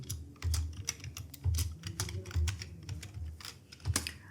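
Rapid clicking keystrokes on a computer keyboard while building a salary slip in an Excel spreadsheet, coming in short bursts with brief pauses, close and fairly quiet, no voices.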